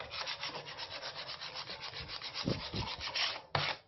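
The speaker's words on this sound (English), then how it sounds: "it's on my wood, it's all lined up on the sides, and then you just scrape, just like you would do with vinyl" Scraping transfer film onto a painted wood sign with a flat tool, a steady rubbing, sanding-like scrape repeated in quick strokes close up, with a couple of sharper scuffs near the end.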